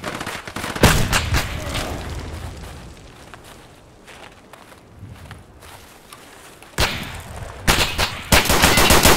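Loud bursts of automatic gunfire and sharp shots crack in an Escape From Tarkov firefight, opening and closing with heavy volleys around a quieter stretch of footsteps and movement.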